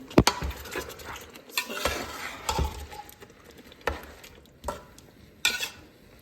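Chicken biryani (green biryani) stirred in a cooking pot: a spoon scrapes and clanks against the metal at irregular intervals, with a soft simmer between strokes, close and moderately loud.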